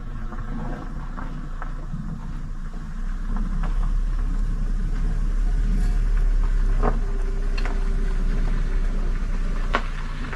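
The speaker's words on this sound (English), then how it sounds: "she suddenly heard a car approaching" A car draws slowly closer to a campsite as a steady low engine rumble that gradually grows louder, heard from a distance with no voices.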